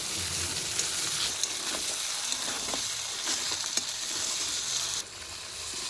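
Spiced mutton with potato and papaya sizzling steadily in a pan, with a dense hiss and a few faint stirring taps, ending in a slightly quieter sizzle.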